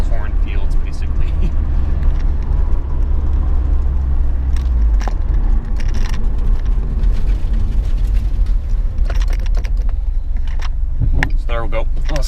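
A turbocharged Honda Prelude's engine drones steadily from inside the cabin as it rolls along rural back roads, with occasional rattles and brief talk over the constant low hum.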